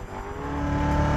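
Engine of a 2015 Chevrolet Corvette Z06 accelerating under full throttle, a loud steady roar rising gradually in pitch, heard from inside the car with no voices.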